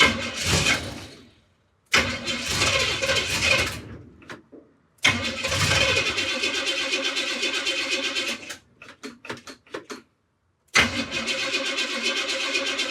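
A junkyard Pontiac T-37 engine repeatedly cranks and catches, running roughly in loud bursts separated by sudden silences, stumbling and cutting out before firing again, close and alone.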